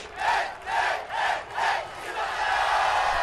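Isipathana College supporters, the self-styled green machine, chanting and cheering at a schools rugby league match against S. Thomas' College, with rhythmic surging crowd cries in regular pulses before settling into a sustained roar.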